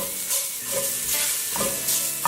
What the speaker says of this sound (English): give it a quick cook, saute. Don't burn the garlic.